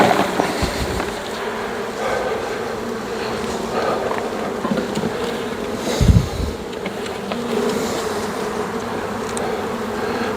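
Honey bees buzz steadily and close throughout a kitchen hive inspection, a dense continuous drone with a brief louder thump near the middle.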